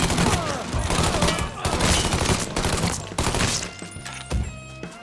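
A dense shootout in a video game, with rapid gunshots and bursts of fire crowding one another in a loud, continuous barrage that briefly thins near the end.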